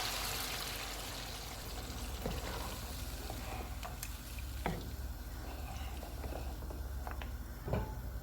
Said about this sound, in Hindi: अब इसमें हम 2 कप पानी डालेंगे ताकि बीफ अच्छे से गल जाए।